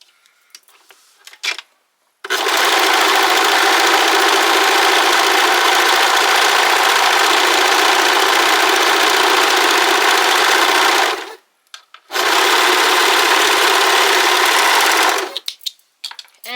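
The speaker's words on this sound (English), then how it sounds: "we're going to go to the serger and we're going to sew both the shoulders" A serger overlocker stitches the shoulder seams of a Simplicity 3010 sewing pattern garment, running in two steady, loud bursts of whirring about nine and three seconds long, separated by a brief pause, with no talking.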